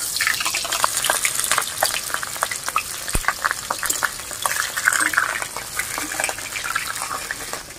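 Big chunks of potato crackle and sizzle in hot oil with a dense, steady hiss and scattered pops, and a few stirring knocks come through. No talking is heard.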